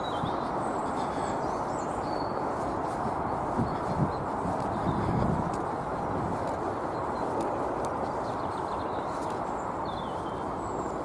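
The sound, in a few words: blackbirds singing in a park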